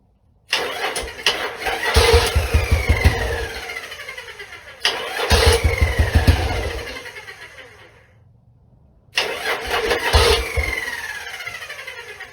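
Three separate attempts to start a choked small engine, each a loud, close crank that catches and runs rough before dying away, with short silent gaps between the tries.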